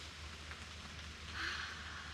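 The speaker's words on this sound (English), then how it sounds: "It's raining from the tree leaves right now." Rain dripping from tree leaves outdoors, a faint, soft patter spread across the whole stretch with a low steady background hum, no voices.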